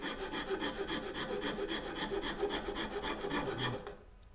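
A file rasps rhythmically across a wooden backsaw handle, smoothing its contours in quick, even back-and-forth strokes, close and fairly quiet, stopping near the end.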